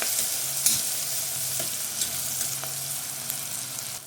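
Onions frying in oil in a pan for country chicken (natukodi) pulao, giving a steady close sizzle with a few light stirring scrapes and no talk.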